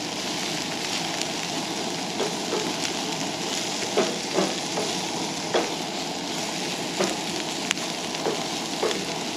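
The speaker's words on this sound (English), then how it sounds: "So we're just sauteing them until the onions start to look just slightly translucent" Sausage, bell peppers and onions sautéing in a pan, a steady moderate sizzle broken by occasional crisp pops and stirring clicks, close and without talk.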